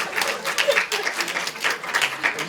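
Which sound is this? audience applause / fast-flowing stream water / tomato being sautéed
audience applause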